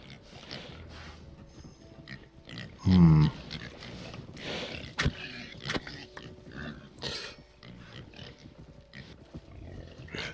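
Pigs grunt in a modded farming video game, with one loud, close grunt and scattered snorts among clicks and game noises while someone talks over them.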